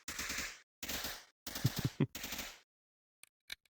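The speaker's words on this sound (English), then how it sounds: "it fires all the guns at once" Many guns in a video game firing at once, four loud bursts of rapid automatic fire in quick succession, followed by two faint isolated shots.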